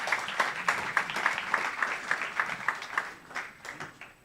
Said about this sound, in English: Can we give Micah a big fat hand of applause?